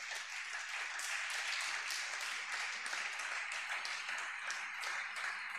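A church congregation applauds together in acclaim of Jesus, sustained dense clapping at steady loudness throughout with no break.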